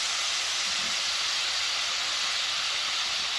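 A seasoned steak cooks in a skillet with a loud, constant sizzle, a dense, even hiss that holds steady throughout, with no talking.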